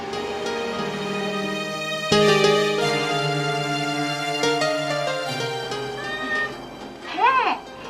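A hungry domestic cat meows repeatedly near the microphone, a string of drawn-out, insistent cries that rise into a sharper wail at the end, with no talking over it.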